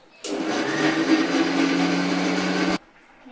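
Kitchen mixer grinder, covered with a cloth, grinding tomatoes and spice paste in a steady high whirring burst of about two and a half seconds that starts and stops abruptly, with no talk.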